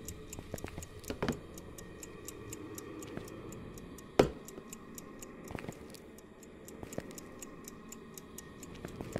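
A steady, even ticking from an alarm clock in the video game Phasmophobia runs throughout, quiet and regular, with a few sharper knocks and clicks breaking in.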